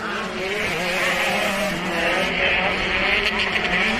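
Stock cars racing closely on an oval track toward the white flag with two laps left, trading paint and rubbing tires; a steady, loud roar of several engines droning continuously, with faint announcer talk underneath.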